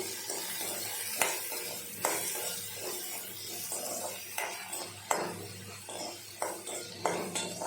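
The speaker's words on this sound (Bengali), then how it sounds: "এর মধ্যে দিয়ে দিলাম হলুদ আর নুন, দিয়ে একটু নাড়াচাড়া করে নেব।" Taro is stirred in a pan with turmeric and salt, a soft sizzle under repeated scraping and clinks from a metal utensil, fairly quiet and with no talking.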